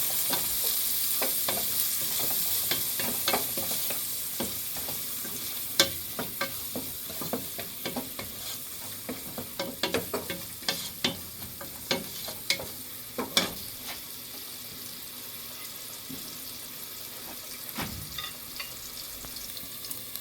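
Onions frying in a pan with white pepper, stirred steadily, giving a continuous close sizzle broken by repeated sharp scrapes and spoon clicks against the pan, with no talking.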